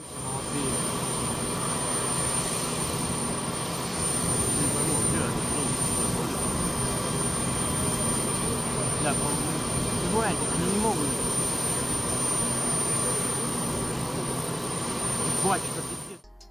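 A fixed-wing airplane's engines roar steadily throughout a landing, a continuous loud jet drone that holds for the whole stretch with little change.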